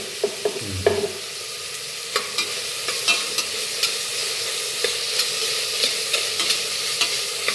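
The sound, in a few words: sautéing onion, green chili, ginger and garlic in a pan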